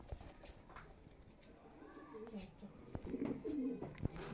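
Young Punjabi Malvai pigeons coo softly in short, low bursts near the end, with faint background noise and a few clicks.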